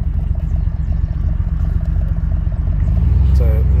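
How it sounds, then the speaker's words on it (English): A GM truck engine fitted with a BTR Truck Norris cam idles at around 700 RPM, a close, choppy low rumble with an uneven lope. Someone talks over it. "people have been asking about the drivability in this truck. As you can see, we're actually idling at about 700, so it's about 400 RPMs high."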